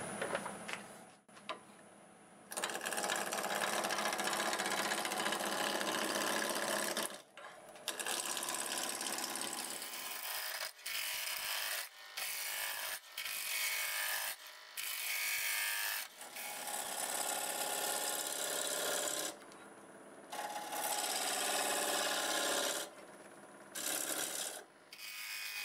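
A fence post spun on a wood lathe is cut with an inch-and-a-half spindle roughing gouge, giving a loud continuous scraping rasp that breaks off for short pauses when the tool lifts from the wood.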